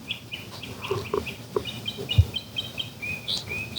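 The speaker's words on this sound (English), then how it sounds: "Is anyone hearing this bird tweeting?" A small bird tweets repeatedly in short, high chirps and a couple of thin whistles, fairly close, over low background sounds and a few soft clucks, with no one talking.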